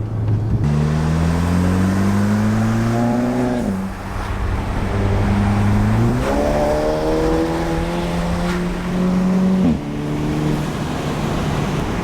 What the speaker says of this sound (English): Let's just enjoy the exhaust.